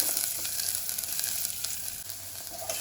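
Chopped onion frying in hot peanut oil as the start of a broccoli soup gives a continuous, bright, close sizzle with faint crackles and no voices.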